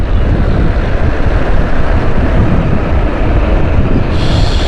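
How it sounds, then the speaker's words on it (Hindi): A loud, continuous rumbling roar of a metro train passing close by in Karachi, steady throughout with no voices. "ये आ गया मेट्रो।"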